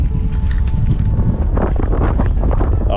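Strong wind blowing across open water around a kayak on a rainy day, a loud continuous roar and buffeting against the microphone with no talk.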